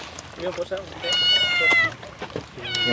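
A cat meows at home in rural Nueva Ecija, a clear, moderately loud mewing call in the middle of the clip while people talk throughout.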